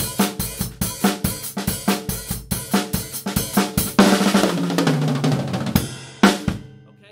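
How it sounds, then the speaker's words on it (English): Drum fill from a song played on a kit as sixteenth-note triplets: a fast, even run of close, loud tom and snare strokes, then crashing cymbals ringing out with one more accented hit near the end, no talk. "But certainly don't play these as 16th note triplets."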